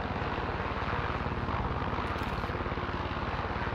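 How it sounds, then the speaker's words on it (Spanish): A helicopter passes overhead, a steady loud rotor chop with rhythmic blade beats and a constant engine drone throughout, no voices. "creo un helicóptero"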